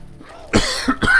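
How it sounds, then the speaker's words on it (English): After a short quiet moment, two or three harsh coughs come in quick succession, very close to the microphone. "I didn't mean to cough into the microphone like that."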